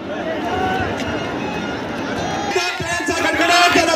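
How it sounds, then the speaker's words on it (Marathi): A huge crowd at a Gautami Patil dance event mills about in a loud, continuous hubbub of overlapping chatter, growing a little busier and brighter toward the end, with a voice addressing the crowd. "आपणा सर्वांची लोकप्रिय नृत्यांगना सिने अभिनेत्री गौतमी पाटील यांच्यावरती प्रेम करणारी ही अफाट गर्दी आहे आज या ठिकाणी उपस्थित आहे"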